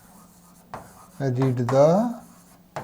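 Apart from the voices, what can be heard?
writing on board during lecture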